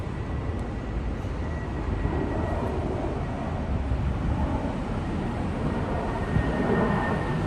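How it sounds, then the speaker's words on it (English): A passenger airplane passes overhead above a Japanese garden in Yokohama, a steady broadband roar that holds fairly level throughout with no talk. "There's the airplane. I knew I could hear an airplane."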